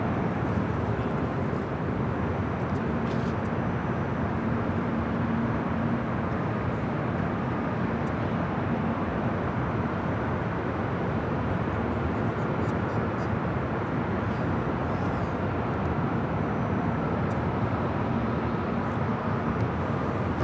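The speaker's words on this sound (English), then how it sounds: "This arrival is British Airways Flight 281 coming in from London Heathrow on the 777-300ER." A British Airways Boeing 777-300ER comes in to land on runway 24 right, its broad, steady jet roar filling the whole stretch without letup, with faint radio chatter underneath.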